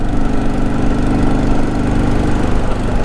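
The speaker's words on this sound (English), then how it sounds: "when I open up the throttle and it just climbs gradually" A carbureted motorcycle engine runs close by with a loud, steady, throbbing drone that holds fairly even through the short stretch, with no talking.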